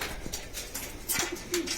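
Homing pigeons in a loft giving soft, low cooing calls, several overlapping near the listener, with faint rustling and background noise.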